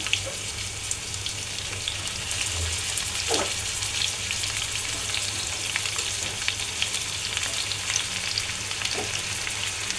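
Snake gourd frying in a pan with green chili, garlic and onion, a constant close hiss of oil with faint stirring and a few clinks; no talking over it.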